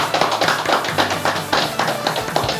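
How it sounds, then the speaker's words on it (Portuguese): Audience clapping at a podcast recording, sharp close claps in a quick, fairly even rhythm, sounding like a small group rather than a large crowd, brief and with no talk over it. "E uma salva de palmas"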